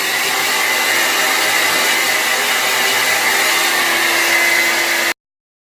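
A hair dryer on its hot, high setting blows as one steady, close, even whoosh for about five seconds, then cuts off abruptly.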